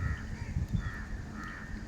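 Crows caw in a short series of harsh repeated calls, moderately distant and fairly quiet against a steady outdoor background near a forest.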